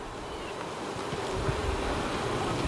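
Honey bees buzz densely around an open hive, a steady close swarm drone with no speech.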